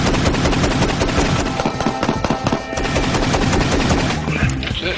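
A shotgun fires fully automatic in a rapid, dense burst of loud, closely spaced blasts that rattle on without pause for several seconds at close range.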